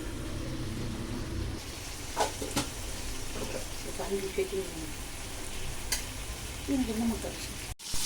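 Fish sizzling in oil in a kadai, a soft steady frying hiss with a few spatula taps, heard close and fairly quiet.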